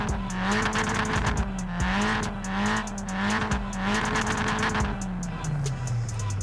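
A 1983 MK1 Golf GTI's naturally aspirated 1.8-litre 112 hp four-cylinder revs hard in Forza Horizon 4, climbing and dropping through repeated gear changes with a loud, close, buzzy engine note and a faint tyre squeal.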